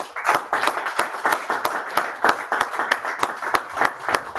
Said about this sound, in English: we applaud him together with the music